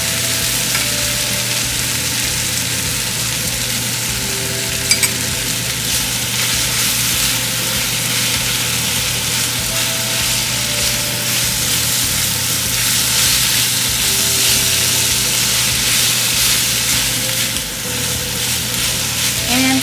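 Pork sizzles steadily in a hot pan for Filipino pork afritada while tomato paste goes in, a close, continuous frying hiss with low stirring rumble throughout and no talking.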